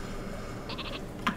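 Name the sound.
Super Sheep weapon bleating in Worms video game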